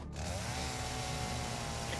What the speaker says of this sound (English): I'm so glad they changed the sound of the chainsaw again.